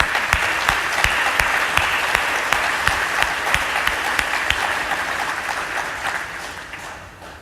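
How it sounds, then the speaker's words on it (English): Sustained audience applause for panelists at an annual conference session, dense steady clapping lasting several seconds with a few sharper claps standing out before it tapers off slightly at the end. "So let's give them a round of applause."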